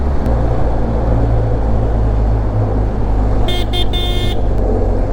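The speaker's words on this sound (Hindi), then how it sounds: "इंजन की डायरेक्ट आवाज़ मेरे पास आती है, फिर दीवारों से लड़ती हुई आगे बढ़ती हुई आवाज़ मेरे कानों तक आती है।" A loud, steady motorcycle engine drone echoes off the walls of a road tunnel, close and continuous, with a brief horn toot sounding near the end.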